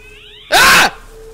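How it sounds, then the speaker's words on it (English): A loud, single cat meow in a horror video game breaks out sharply over a quiet tonal background and lasts under half a second before the game ambience returns. "Ah! That's a cat."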